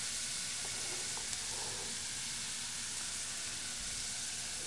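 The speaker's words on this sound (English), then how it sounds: "We're sauteing this till the onion becomes translucent." Onion sautéing in extra virgin olive oil for an Italian tomato sauce, giving a steady, soft sizzle and hiss that holds evenly throughout, with a few faint clicks from stirring.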